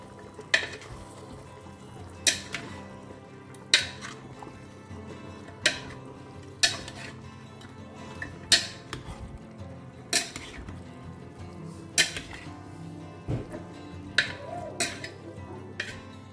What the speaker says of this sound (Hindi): इसे अच्छे से मिक्स करें।